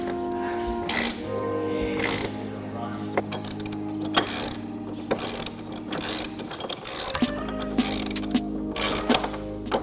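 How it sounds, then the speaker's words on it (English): Ratchet wrench tightening a 9/16 gutter rail bolt on a rooftop tent mount fitted to a Land Cruiser 60/80 Series, clicking in steady close strokes over a constant hum, with a few sharper ticks. "go ahead and tighten down the bolt for the gutter rail"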